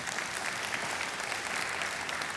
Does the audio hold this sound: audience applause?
yes